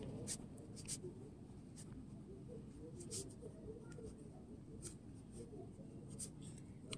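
Pen scratching out numbers by hand while working a class 7 division problem, a string of short, sharp scribbling strokes in irregular bursts over a steady low room hum.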